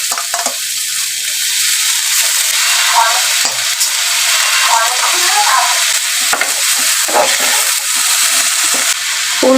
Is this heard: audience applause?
no